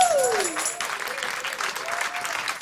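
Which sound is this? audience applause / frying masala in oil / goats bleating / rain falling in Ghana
audience applause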